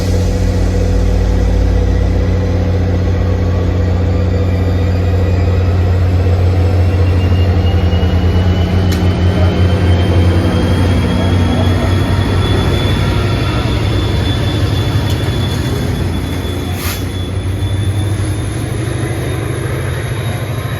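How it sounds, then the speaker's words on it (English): EMD GP40FH2 diesel locomotive number 4904 shoves a commuter train toward Hoboken, a loud, close, steady rumble of engine and rolling cars that holds throughout and eases slightly near the end. "here's our good friend 4904, GP40 FH2, doing the honor shoving this train to Hoboken"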